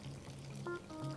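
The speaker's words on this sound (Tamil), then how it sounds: "அடுத்து இதில் தேவையான அளவு தண்ணியை ஊற்றி" Water being poured into spiced keerai bonda batter in a mixing bowl, a short close trickle lasting about a second with faint tonal hum underneath, no talking.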